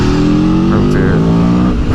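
A 2022 Aprilia Tuono V4 motorcycle accelerates hard in second gear through a corner, its loud, close engine note climbing steadily in pitch as the revs rise.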